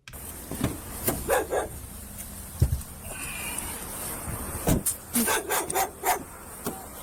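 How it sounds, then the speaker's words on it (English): A white labradoodle barks in short bursts, some close and loud, others in quicker clusters, with rubbing and scraping noises in between. "a white labradoodle barks frantically, refusing to leave the scene"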